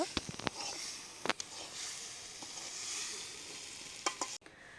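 Meat sizzles steadily in a pan on the stove, with scattered crisp pops and clicks over the hiss; the sound cuts off abruptly near the end.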